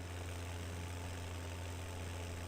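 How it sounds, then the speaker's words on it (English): A tractor engine in Farming Simulator 17 hums steadily at low pitch while pulling and running a baler that is slightly too big for it, a constant drone with no breaks and no talk. "this tractor may actually still be just a tiny bit too small for this baler, even though it's pulling it and it's running it and everything."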